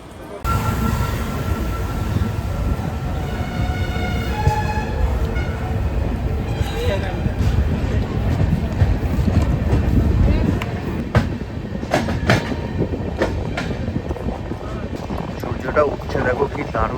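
Express passenger train running between Kolkata and Varanasi, a steady loud rumble of wheels and carriages throughout, with a few sharp clanks, a brief horn-like tone early on, and people talking over it.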